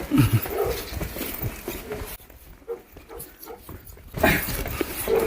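A dog whimpers and whines in short, restless bursts, close by, amid shuffling background noise.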